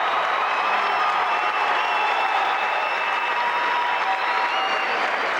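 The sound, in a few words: crowd applauding at a basketball game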